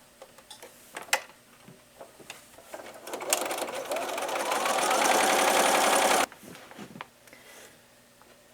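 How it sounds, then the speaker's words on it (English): Sewing machine stitching the center seam of a double four patch quilt block, a loud, steady mechanical whir of rapid needle strokes running for about three seconds between quieter handling clicks and taps. "I will sew the seam in the middle to finish the block."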